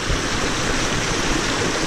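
The White River in Dominica rushes over stones left after a hurricane, a steady close-up roar of running water that holds level and unbroken throughout.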